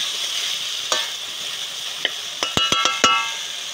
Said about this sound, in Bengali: দেখো আলুটা কতটা সুন্দর ভাজা ভাজা হয়ে যাচ্ছে।